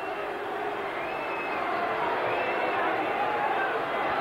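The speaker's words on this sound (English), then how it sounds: "the fans are going mad" Football crowd noise in a stadium after a West Ham goal against Arsenal, a loud continuous roar and cheer filling the whole stretch, with commentary voices running over it.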